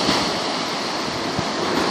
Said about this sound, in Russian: Вон волна там грязная.